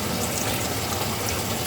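Water gushes steadily from a home faucet through a connected hose into a Kuppet twin tub washing machine, a close, continuous rushing flow with no pauses.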